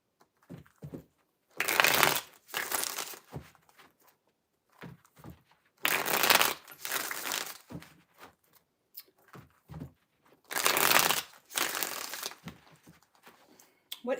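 Tarot cards being shuffled in three quick bursts of riffling and rustling, close and crisp, separated by pauses with soft handling noises in between.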